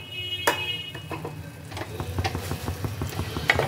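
Grated carrots and milk stirred in a pan for Bengali carrot halwa, a spoon scraping and sloshing in steady irregular strokes over a soft sizzle, close and alone.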